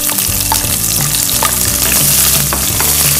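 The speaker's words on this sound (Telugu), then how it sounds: "కొంచెం తక్కువగా వేడిన నూనెలో ఈ మసాలాలు వేయించితే మంచి సువాసన బయటకు వస్తుంది." Spices and then onions frying in oil in a pan while cooking a biryani with stuffed eggplant, a steady loud sizzle with occasional stirring clatter throughout, no voices.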